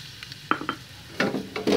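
Garlic hits leftover pork frying oil in a pan, giving short bursts of sizzling with utensil scrapes and stirring clatter, close and brief.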